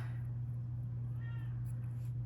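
A pet cat meows indoors, one short, fairly faint call near the middle, heard over a steady low electrical hum.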